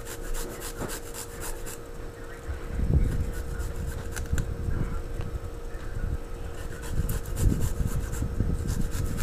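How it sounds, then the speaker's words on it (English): Fresh garlic grated onto chicken, a soft continuous rasping scrape, close and steady over a constant background hum. "So I'm gonna grate some fresh garlic onto this."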